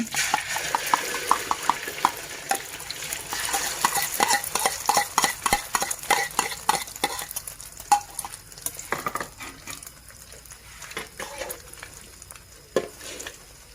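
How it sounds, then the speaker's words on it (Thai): Eggs frying in fresh oil sizzle while a utensil stirs and scrapes the pan in quick, repeated clinks and taps that thin out toward the end, close by and with no voices. "อันนี้ก็ทอดไข่"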